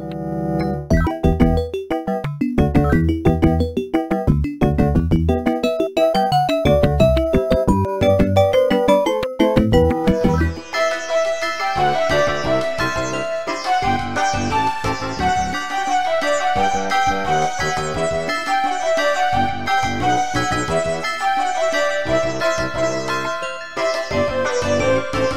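DOS-era PC game music rendered by DOSBox through a General MIDI wavetable soundfont: steady, busy synthesized melody with chiming, bell-like tones over bass, continuous and loud with no talking.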